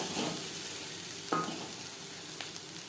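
Onions frying with turmeric powder and green chillies for a vegetable and puti fish chorchori give a steady, soft sizzle. It runs through the whole clip at a constant level, with a brief stir or scrape partway through.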